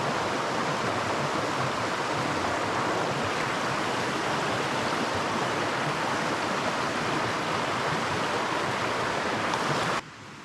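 A flowing stream at a camping spot rushes in a continuous, dense wash of water noise close to the microphone, steady for about ten seconds before cutting off abruptly.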